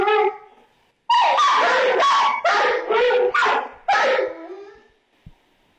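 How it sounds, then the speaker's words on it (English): Several dogs barking in quick overlapping bursts, loud and close, then stopping together, followed by a brief low thump and quiet. "Dogs are barking. Just like we said, they stop at the same time."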